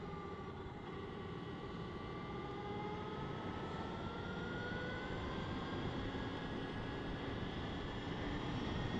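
Electric whine from a Victory Empulse TT motorcycle motor while riding, a steady rising tone over constant wind and road rush, close and continuous throughout with no talking.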